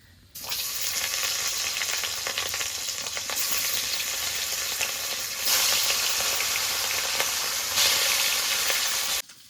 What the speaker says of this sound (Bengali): এবার বাকি মাছগুলো এভাবে ভেজে নেব